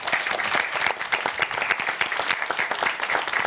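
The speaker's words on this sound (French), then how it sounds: "ça s'applaudit" An audience at a Corsican quiz event applauds a correct answer with steady, lively clapping from many hands, dense and fairly loud, continuing evenly throughout.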